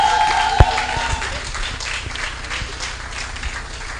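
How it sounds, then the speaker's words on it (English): Audience at a female founders' demo day applauding as a speaker is welcomed, a sharp knock at the start and then a dense wash of clapping that slowly fades, with a faint tone early on. "please, a very warm applause"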